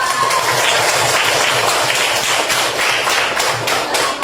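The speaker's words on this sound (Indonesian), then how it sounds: "tepuk tangan buat Iqbal" A class of pupils claps for a classmate during a lesson, a busy, continuous patter of many small hands close by, with rhythmic bursts running under a slight room hum.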